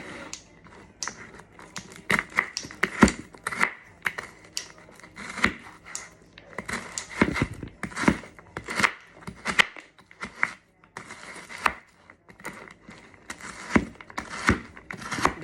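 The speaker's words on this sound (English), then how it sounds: "The key is to chop it fine so it can be all mixed together eventually." A knife chops vegetables finely on a board for an African grey parrot's chop mix, with steady, rapid, close knocks coming in bursts and short pauses between them.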